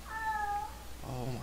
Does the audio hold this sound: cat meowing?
yes